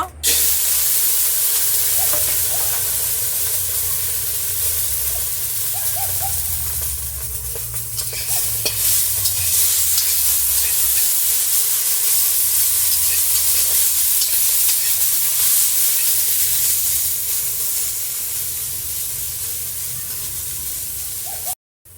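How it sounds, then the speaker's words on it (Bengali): Pieces of bitter gourd fry in hot oil in a pan for a prawn shukto, giving a loud, continuous close-up sizzle and hiss with occasional stirring scrapes, unbroken for over twenty seconds and without talk. "এবার উচ্ছেটা ভেজে নেব।"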